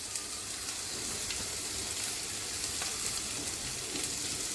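Thinly cut onions and carrots sauté in a pan for chow mein noodles, giving a loud, constant close sizzle and hiss with faint stirring noises.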